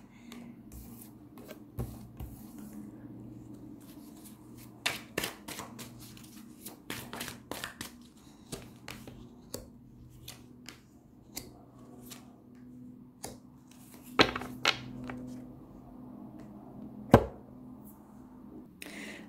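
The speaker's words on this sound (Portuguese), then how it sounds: "aqui já me caiu uma carta, então já vou colocar aqui" Tarot cards are shuffled, handled and laid down with soft papery rustles, taps and occasional sharper slaps, sparse and close against a faint low hum.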